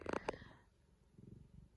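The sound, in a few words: cat purring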